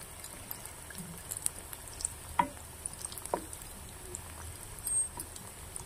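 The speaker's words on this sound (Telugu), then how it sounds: "ఇలా సిమ్లో ఫ్రై చేసుకోవాలండి చిన్నగా" Chicken pieces frying slowly in oil over low heat until crispy, a quiet steady hiss broken by scattered soft pops and crackles, close by with no talking.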